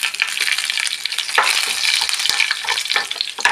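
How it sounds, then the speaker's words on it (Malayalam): Mustard seeds crackle and splutter in hot oil for a Kerala-style green chilli curry, a dense, steady crackling fizz with sharp pops scattered throughout, close and fairly loud, with no voices. "കടുക് നന്നായി പൊട്ടട്ടെ."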